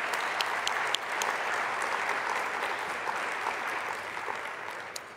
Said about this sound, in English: Give a big round of applause for those four school librarians.